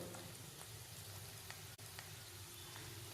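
Spices with turmeric and chilies fry in a pan for lemon sweet corn rice, giving a soft, steady, continuous sizzle with faint crackles and no voices.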